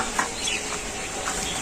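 Oil hisses in a pan in a small hotel kitchen, a brief, steady close sizzle with no voices.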